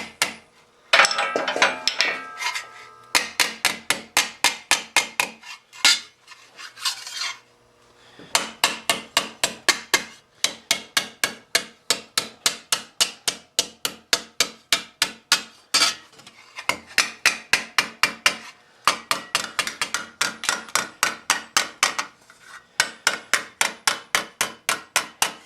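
A curved-face hammer strikes a steel mitten gauntlet in a Milanese style of about 1450, in rapid bursts of close, ringing metallic blows separated by short pauses, with no talk.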